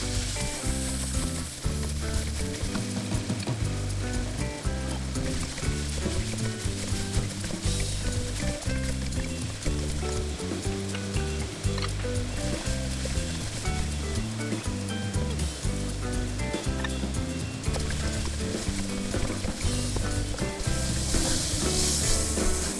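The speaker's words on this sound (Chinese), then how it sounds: "得用大火一直翻炒。" Diced chicken stir-fried in a wok over high heat gives a steady, dense sizzle with faint scraping of stirring throughout, loud and continuous with no voices.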